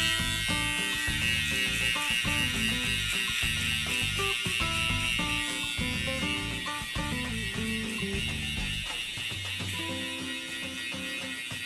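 Electric foil shaver cutting hair during a skin fade, a close, steady buzzing hum with rhythmic stuttering as it passes over the head, running alone throughout.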